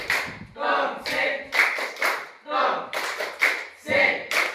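A class of schoolchildren claps in rhythmic bursts during the 'tepuk tongseng' clapping game, sharp groups of hand claps in a patterned beat with short pauses between, close and lively in a classroom.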